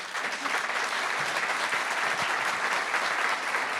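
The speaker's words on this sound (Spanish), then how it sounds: "nos merecemos un aplauso final" An audience at a presentation on the impact of crime on businesses claps steadily. The applause is dense and sustained at an even level throughout.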